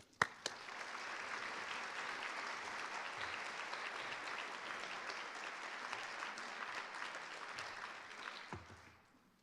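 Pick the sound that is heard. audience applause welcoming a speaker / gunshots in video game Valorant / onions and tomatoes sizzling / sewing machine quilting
audience applause welcoming a speaker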